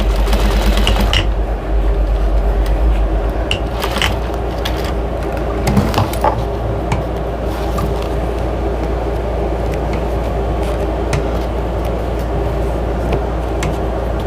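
A sewing machine runs steadily, double stitching a fabric drying mat, a continuous close mechanical hum and rattle with a few small clicks and no talking.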